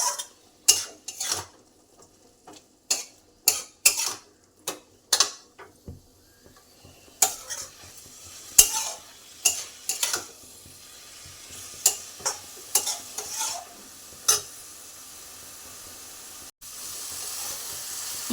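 A spoon scraping and stirring melon seed, poppy seed and green chili paste frying in a pan, with sharp metallic clinks in an irregular rhythm over a faint sizzle.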